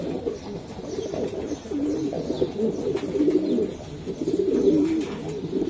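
Pigeons at a Bangladeshi farm coo in a steady low murmur, with soft rustling throughout and no voices.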